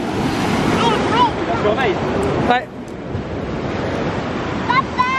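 Rough ocean surf rolls and crashes steadily at a beach on a day of heavy waves, with gusty wind buffeting the microphone while a child's and adults' voices speak over the roar.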